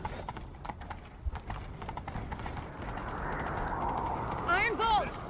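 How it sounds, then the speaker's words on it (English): Hoofbeats clip-clop from a horse ridden in The Witcher 3, a steady galloping rhythm running throughout, with a voice speaking over it and a short whinny-like call near the end. "Grab a horse, we'll chase him down."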